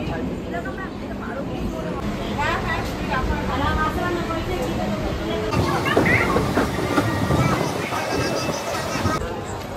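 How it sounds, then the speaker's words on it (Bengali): A train rumbles and hisses into busy Sodepur station, with voices and crowd chatter around it throughout. "ফাঁকা ট্রেন এসছে, শান্তিতে যেতে পারবো"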